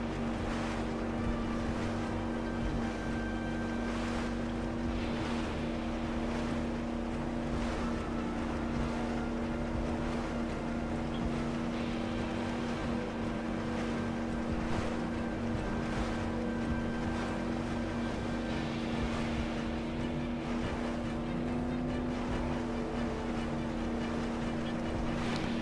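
Squalo X7 powerboat in Just Cause 3, its steady engine drone running continuously over rushing water and wind for the whole stretch, with no voices heard.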